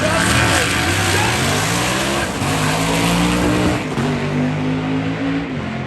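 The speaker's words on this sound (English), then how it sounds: "just all the way down, and both of them are making good passes" Drag racing cars, including a metal flake Ford Ranchero with a 5-speed and an old-school blower, roar loudly down the strip at a Sick Week event, engines revving and shifting continuously with a steady close rumble throughout.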